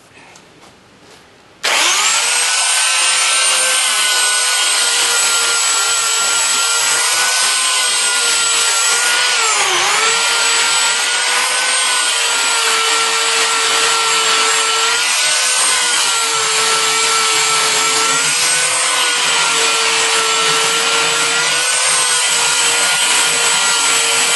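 A power sander starts abruptly and then runs as a loud, steady motor whine while sanding cloth, its pitch dipping slightly now and then under load, with no talking.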